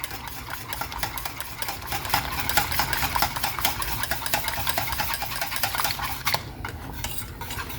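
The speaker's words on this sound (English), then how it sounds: "We can even stir it a little bit more." A spoon stirs thickening gravy for biscuits and gravy in a pan, making continuous rapid scraping and clicking strokes against the metal, close and fairly loud throughout.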